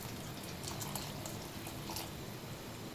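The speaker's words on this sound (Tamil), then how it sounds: "நம்ம கொஞ்சம் தாராளமாக தண்ணி சேர்த்துக்கலாம்" A steady stream of water pours and splashes into a pan of cooking tomato chutney, a continuous soft hiss at low volume with no voices.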